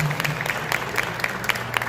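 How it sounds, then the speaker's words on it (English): An audience at a Dominican Independence celebration in Queens applauds honorees and dancers, a brief dense clapping with a low hum beneath. "So another round of applause for them."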